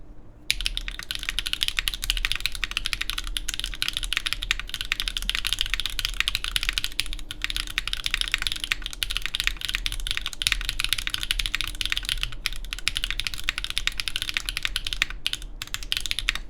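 Steady, continuous typing on a Bowl Pangea Mini mechanical keyboard built with a carbon fiber plate and GMK beige keycaps, close and clear with no talk.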